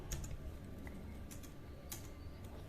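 Quiet clicking of a computer keyboard, a steady run of light keystrokes with small irregular pauses, close and faint against low room hum.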